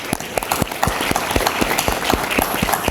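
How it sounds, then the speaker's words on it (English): Applause from a modest audience for panelists at a transportation and infrastructure forum, with individual hand claps distinctly audible in a lively, uneven rhythm. "If you give our panelists a round of applause for that"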